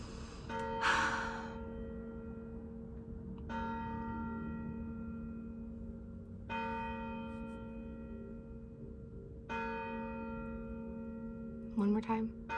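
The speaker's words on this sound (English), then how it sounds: "There's a church on every corner in my town, and bells go off every hour." Church bells in a Southern town ring on the hour, struck about four times at even intervals with long ringing decays, fairly faint, amid quiet breathing and a brief sound from a person.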